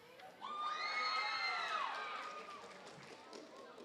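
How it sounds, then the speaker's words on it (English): A crowd at a seventh-grade school awards ceremony, many of them children, breaks into cheering, shouts and whoops with some clapping, swelling quickly and then tapering off. "That wasn't exactly holding our applause to the end."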